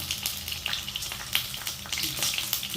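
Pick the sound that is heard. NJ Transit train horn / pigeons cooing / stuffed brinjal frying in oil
stuffed brinjal frying in oil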